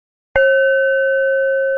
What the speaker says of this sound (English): it's a Tibetan bell.